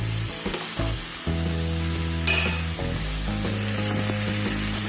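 Boiled egg pieces, each egg cut into four, sautéing in masala in a pan for an egg sandwich, giving a steady close sizzle with a few stirring scrapes and a brief brighter hiss partway through.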